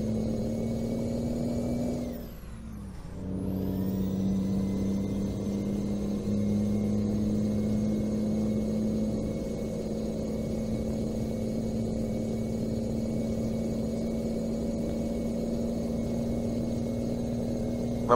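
The engine of a Kenworth T800 dump truck hauling a 40-tonne load in Euro Truck Simulator 2 drones steadily at a low, even pitch, with a brief dip around a gear change before settling back into a long, unchanging hum.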